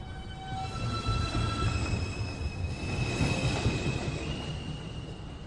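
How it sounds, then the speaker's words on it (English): A New York City Subway 2 train pulls into 215th Street station with a heavy, continuous rumble and long, high, metallic wheel squeals ringing over it, loud and close throughout. "Approaching the station, please stand away from the platform edge."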